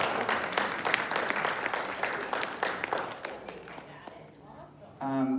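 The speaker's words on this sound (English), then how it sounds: "Give yourself a round of applause." Crowd applause at a town hall gathering, dense clapping that rolls on steadily for several seconds and then thins out before a voice begins speaking near the end.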